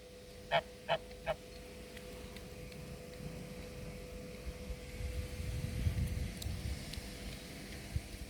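Mallard ducks give three short, distinct honking calls early on, then the scene falls quiet, leaving only faint outdoor rustling and low background noise.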